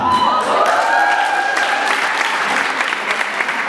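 A crowd at an advanced Jack and Jill swing dance finals claps and cheers loudly and close, a bright, continuous burst of applause with some whoops that eases slightly toward the end.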